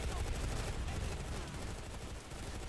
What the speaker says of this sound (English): your gun's kicking too much for you to be shooting at me up here